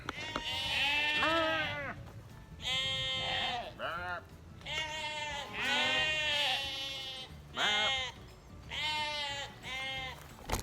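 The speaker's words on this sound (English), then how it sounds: "Oh, the sheep say hi." Sheep on a homestead bleat loudly and close by in a string of long, wavering calls that overlap one another, with short gaps between them across the whole stretch.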